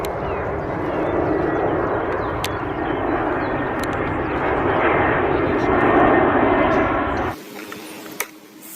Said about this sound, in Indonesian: Nah, pesawat terbang.